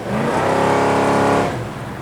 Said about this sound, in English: Car has great acceleration.